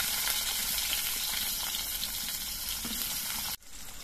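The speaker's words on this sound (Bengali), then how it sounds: "এবার এই তেলের মধ্যে আমি সব সবজিগুলোই ভেজে নেব। প্রথমে আলু ভেজে নিচ্ছি।" Potatoes frying in hot oil give off a loud, steady sizzle and crackle that runs unbroken for several seconds, then drops off abruptly near the end.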